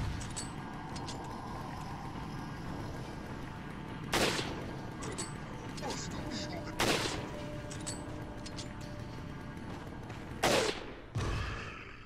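Rifle shots in Resident Evil 4, four loud sharp cracks spaced several seconds apart over a quiet game background, the last two coming close together.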